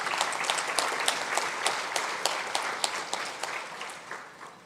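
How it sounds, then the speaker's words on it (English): A conference audience at a middle managers' leadership event gives a round of applause: dense, sustained clapping from a large crowd that holds steady and then gradually tapers off near the end. "that deserves another round of applause"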